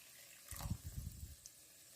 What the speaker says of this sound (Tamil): லைட்டாக தண்ணி சேர்த்துக்கலாம்